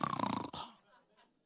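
A voice imitates a person snoring, with a raspy drawn-out snore followed by a faint breathy tail, close and fairly loud.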